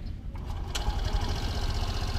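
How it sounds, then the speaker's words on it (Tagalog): A Suzuki Burgman 125 Street scooter engine catches and settles into a quiet, even idle that carries on steadily to the end, close to the microphone. "So start natin yung makina at ipaparinig ko sa inyo yung tunog nito kapag nag-start na."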